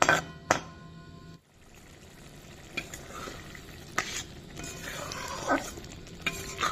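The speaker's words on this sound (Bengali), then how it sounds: "ভালো করে মশলাটা কষিয়ে নেব" Spice paste fried in a little oil in a pan over low heat is stirred with a spoon, giving scraping strokes and clinks over a continuous soft sizzle, close up.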